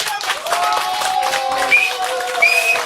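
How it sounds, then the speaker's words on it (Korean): Audience clapping for a singer at a small gathering, moderately loud and continuous, mixed with crowd murmur and a sustained musical tone running underneath. "박수 한번 주세요."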